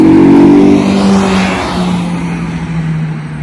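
A car engine roars past at speed along Cheddar Gorge, loud and close, its pitch dropping as it moves away.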